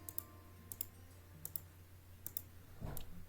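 Sharp computer mouse clicks in Meshmixer, closing small holes on a 3D scan: about five isolated, quiet clicks spread across a few seconds, with a softer thump near the end over a low hum.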